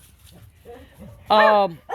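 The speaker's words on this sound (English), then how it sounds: "He loves to bark at my chickens." A single loud bark or howl-like yelp from a dog at a chicken coop follows brief murmuring speech, close by.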